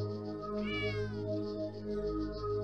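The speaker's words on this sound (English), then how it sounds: "I love how the cat's name is Franz" A cat meows in the Bad Mojo video game, one drawn-out, rising and falling meow standing clearly over a steady tonal game soundtrack.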